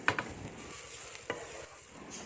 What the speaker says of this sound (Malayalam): തേങ്ങയൊക്കെ നമ്മൾ നന്നായി വറുത്തൊക്കെ എടുക്കണം